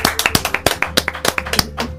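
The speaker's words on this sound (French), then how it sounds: "on va vous applaudir chaudement pour votre travail" A small group claps in a radio studio during a Mother's Day broadcast, roughly fifteen crisp, distinct hand claps in a quick, slightly uneven rhythm, close and fairly loud.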